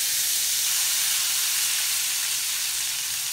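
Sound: squid sizzling in a pan with olive oil, butter, lemon

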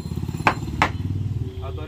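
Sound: hammer striking an Indian Army bulletproof helmet

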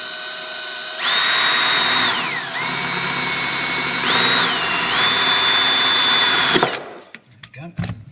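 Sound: power drill drilling steel chassis

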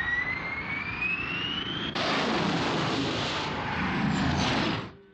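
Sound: Angel interceptor jets launching, Captain Scarlet

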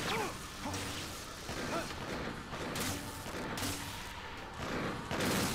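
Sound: bullets fired in video game No More Heroes

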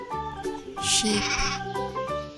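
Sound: sheep bleating

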